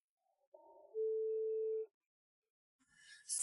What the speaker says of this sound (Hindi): सोंग यू, तुमने मेरा फोन क्यों नहीं उठाया?